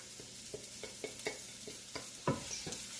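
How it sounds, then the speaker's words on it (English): Spices and onions sauté in a pan on low flame, a soft, continuous sizzle broken by a series of light, irregular stirring scrapes and taps, faint and close, with no one talking. "I'm going to saute it along with the onions here"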